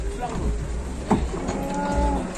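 A cow moos after coming off a truck, a low, drawn-out bellow that is close and fairly loud, with people chattering around it.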